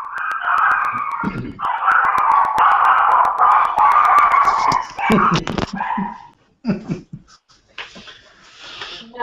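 A dog yelps and howls loudly and close by in long, strained bursts, then breaks into shorter barks and whimpers.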